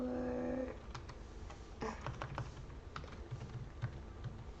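Quick bursts of computer keyboard typing, light clicky keystrokes in short irregular runs after a brief tone at the start, close and fairly quiet.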